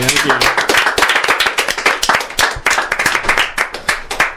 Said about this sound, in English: let's give a round of applause to Shrey.